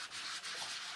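Close, steady rasping of 400-grit wet and dry sandpaper rubbed over a cast eco casting powder air freshener piece, a continuous scratchy hiss with slight dips in stroke pressure.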